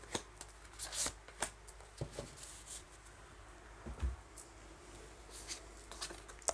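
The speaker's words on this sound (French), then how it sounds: "je vais prendre quelques cartes de ce jeu-ci" Tarot cards being drawn and handled from a deck, a run of soft papery flicks and slides close by with a few sharper snaps, with no talking.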